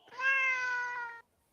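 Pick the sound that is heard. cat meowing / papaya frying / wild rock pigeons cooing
cat meowing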